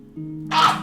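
A single sharp sneeze bursts out close by after a brief, faint hum in the background.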